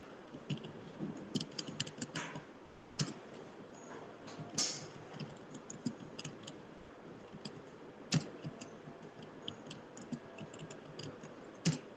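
A computer keyboard is typed on while entering names into a cell in MS Excel 2013, with quick, irregular clusters of light, close key clicks and occasional sharper taps over a quiet room.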